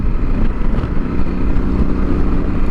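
A 2016 Yamaha Super Tenere motorcycle pulls hard on a highway, its engine note loud and close as it accelerates steadily under heavy wind rush, with no talking.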